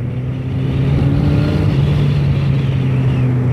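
A 600cc Yamaha XJ600 motorcycle from 1999 drones with a steady, loud engine hum close by, holding an even idle-like tone throughout with no voices.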